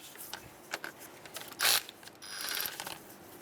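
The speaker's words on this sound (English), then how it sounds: "What we can do now is actually move over to a electric tool, speed up the process." An electric ratchet or impact tool whirs briefly and then spins a bolt loose on the power steering pump of a 2003–2011 Honda Element, with light clicks and metal handling around it, close by.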